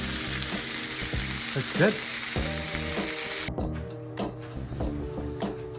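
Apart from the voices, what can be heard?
yampo pan-frying and sizzling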